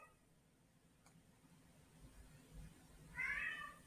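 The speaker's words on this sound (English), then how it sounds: "these cats are going crazy" A cat meows near the end of a quiet indoor stretch, preceded by faint rustling and a soft knock, the meow brief and fairly close.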